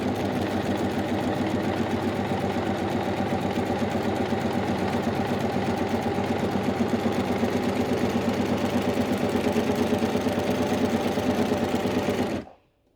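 An overlocker serger stitches steadily at a fast, even pace with its lower looper tension cranked up tight, a dense continuous mechanical whirr heard alone and up close until it stops abruptly at the end.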